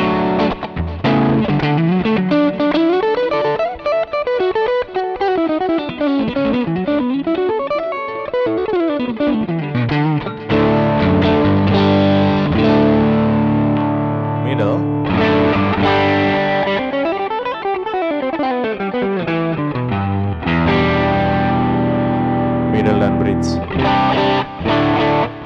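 A Godin Progression Plus electric guitar played through a distortion pedal rings out loud and sustained, with chords and descending and rising runs, a thick, saturated tone filling the whole stretch.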